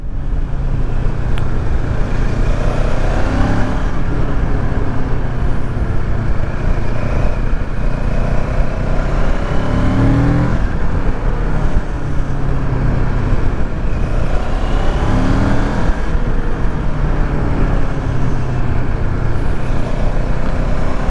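QJ Motor SRK700 motorcycle accelerating through the gears on an open road, a continuous loud engine drone with dense wind noise and rising pitch sweeps repeating as each gear is taken.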